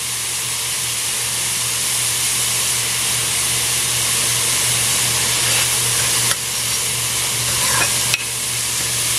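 Onions fry at medium heat in a pan for Trini curry bodi, a loud, steady sizzle with constant hiss and a low hum beneath, broken by a couple of sharp scraping stirs near the end.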